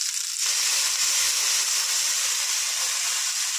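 Dal frying in olive oil in a wok, a steady close hiss and sizzle that starts after a brief muffled moment and holds evenly throughout, with no voices.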